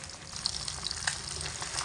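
Large pieces of hilsa fry in hot oil, a quiet but steady sizzle with small crackles and pops throughout, and no voices.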